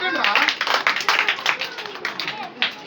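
Children clap for a boy named Anil during a kids' memory-verse lesson, a fairly close burst of uneven, scattered claps over about three seconds with some chatter mixed in.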